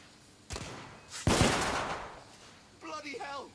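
Gunfire in the Victorian-era shooter game The Order: 1886: a sharp shot, then a louder blast with a long decaying roar, followed by a voice shouting near the end.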